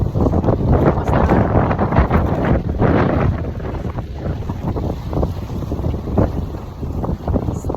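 Strong wind roars across the sea at Subic, Zambales, buffeting the microphone in a loud, steady rush with waves churning beneath, continuous for several seconds with no talking.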